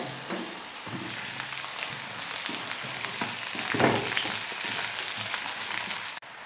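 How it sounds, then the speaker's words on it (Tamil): Steady crackling sizzle of onions frying in oil for chicken gravy, close up, with occasional scraping stirs and a brief louder burst midway. "வெங்காயம் எல்லாம் நல்லா ஒரு நிமிஷம் வதக்கிக்கிட்டேன்."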